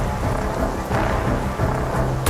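Heavy rain pours steadily through a storm in Bombay, a dense continuous wash of downpour with low thunder-like rumble underneath, loud and unbroken.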